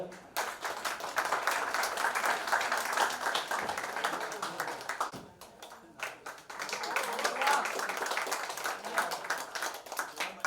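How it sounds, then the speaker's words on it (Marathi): An audience at a film poster launch event for "Mission Mumbai" in Bandra claps loudly and steadily. The applause dips briefly midway, then swells again, with voices mixed in. "जरा जोरदार टाळ्या."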